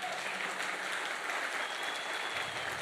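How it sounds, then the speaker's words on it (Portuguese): A crowd of men at a church dinner applauds together, a dense, continuous wash of clapping held at a steady, fairly loud level throughout. "Vamos dar uma salva de palmas para Jesus?"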